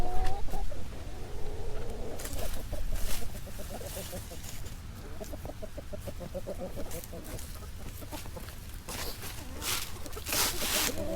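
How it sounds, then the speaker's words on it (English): Chickens cluck continuously as they are let out to roam, a busy close-up chorus of clucks mixed with rustling and scratching. "So now I'm going to let the chickens out and roam a little bit."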